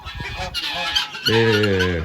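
A male goose kept at a poultry farm honks several times, first in short choppy calls and then in one long, loud, nasal honk close to the listener.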